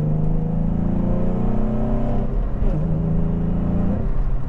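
Nissan 350Z engine pulling steadily under throttle on the road, a continuous close drone with rising harmonic tones that carries on for the whole stretch, with no talking over it.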